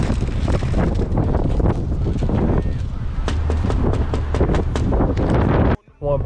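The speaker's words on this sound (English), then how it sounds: "The wind is still blowing." Wind buffets a microphone during a food delivery drive, producing continuous loud rumbling gusts that fluctuate throughout and cut out abruptly near the end.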